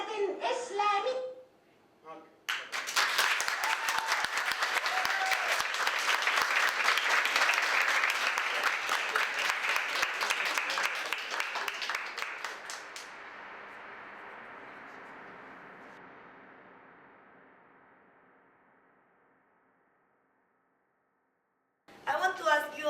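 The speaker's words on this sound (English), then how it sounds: "why are you clapping for a video" An audience bursts into loud, sustained clapping that swells, then slowly thins and fades away, with brief child-like voices and chatter at the start and end.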